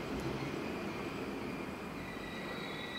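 At Spiez railway station, a passing train gives a steady low rumble with a faint high wheel squeal, heard from the platform at moderate distance with no one speaking.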